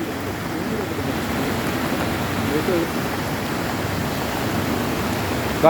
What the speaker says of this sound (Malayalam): ഈ വേസ്റ്റ് വെള്ളം ഒഴുകുന്നതാണ് നിങ്ങൾ കാണുന്നത് കേട്ടോ.